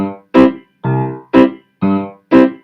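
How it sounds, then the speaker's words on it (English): A bass guitar plays a root-and-fifth line, alternating two notes in a steady pattern of six evenly spaced plucks, each sustaining briefly before the next, close and clear with no talking. "The other really common bass line is called a 1/5 bass."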